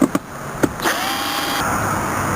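Power drill backing out tail light screws on a Toyota 4Runner, a few short trigger bursts followed by a steady whirring run close to the mic.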